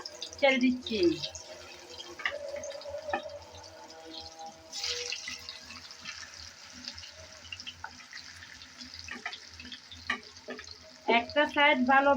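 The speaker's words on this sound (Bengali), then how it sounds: "তেল গরম হয়ে গেল সেই গরম তেলে আমি একটা একটা করে করলা" Bitter gourd (karela) slices sizzle as they are laid one by one into hot oil in a pan, a moderate frying hiss with small clinks beneath a voice talking throughout.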